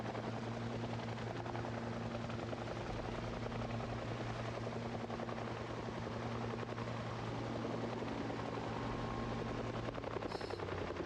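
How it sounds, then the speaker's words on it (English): Helicopter flying steadily in the video game Project Zomboid, a loud continuous rotor drone with a constant low hum throughout, no speech over it. "Just driving with my heli, buddy."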